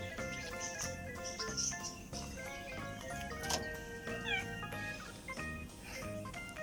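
A cat meows and yowls repeatedly, drawn-out wavering cries from a cage at a resort in Hua Hin, Thailand, over a busy background of other noises, fairly faint.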